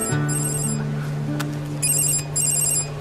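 A telephone rings with two bursts of trilling electronic bells, the first near the start and a longer one toward the end, heard over a steady low room hum with no talk.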